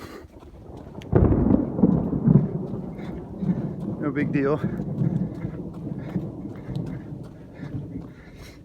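Thunder from nearby lightning strikes during a Florida storm rumbles loud and close, with a sharp onset and a long rolling tail, while someone speaks over it.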